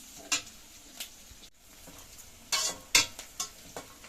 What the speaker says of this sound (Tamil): இப்போ இந்த வெங்காயம் ஓரளவு கொஞ்சம் லைட்டாக வதங்கி வந்துடுச்சு